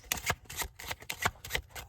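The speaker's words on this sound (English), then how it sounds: "Give those a shuffle" Starting cards of a deckbuilder card game being shuffled by hand, a run of quick papery riffles and slaps in close succession, near and fairly quiet with no talking.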